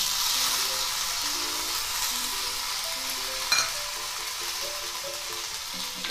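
Ground spice masala sizzles in hot oil that has been tempered with asafoetida, a continuous close frying hiss. One sharp clink of a stirring spoon cuts through midway.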